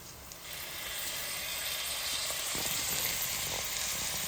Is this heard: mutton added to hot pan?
yes